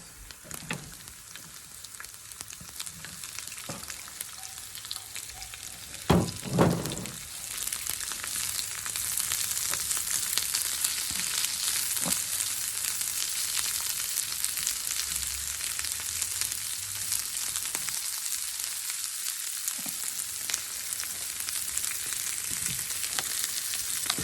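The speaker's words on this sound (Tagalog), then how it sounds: "Tapos maglagay tayo ng ating red onions." Red onions sizzle steadily as they fry in a pan, a constant bright hiss with a few louder crackles and stirring knocks near the start, no voices.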